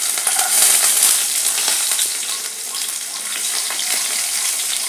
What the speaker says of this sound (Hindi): लहसुन को गोल्डन ब्राउन करेंगे।